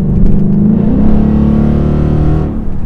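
A 2014 Ford Mustang GT with its 5.0 V8 pulls hard under acceleration, loud and close, the engine note climbing steadily for a few seconds before easing off, with no voices over it.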